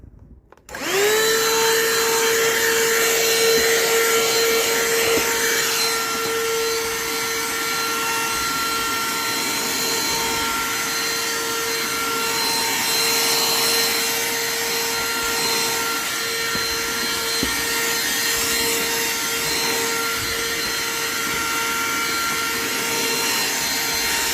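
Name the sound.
vacuum cleaner running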